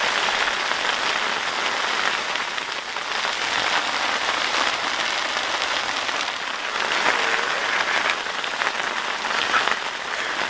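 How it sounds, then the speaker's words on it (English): Hail pelts a boat out on Jenkins Lake at Churchwood Fisheries, a dense, steady hiss of ice striking the surface around it without a break, loud and close, with no talk. "Poor old Root, out in the boat in a hailstorm."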